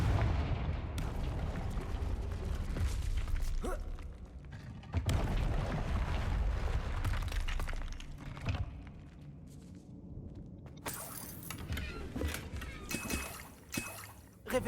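Confringo explosive spell blasts in the Hogwarts Legacy video game, deep booming bursts and rumbling impacts that swell and fade, followed by softer crackling debris and lighter hits.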